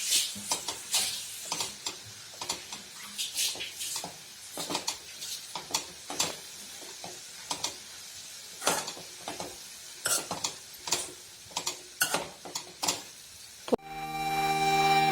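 A carrot and cabbage poriyal is stir-fried in a pan, with repeated sharp scrapes and clinks of a spatula against the metal over a soft sizzle in an irregular rhythm, close and with no talking.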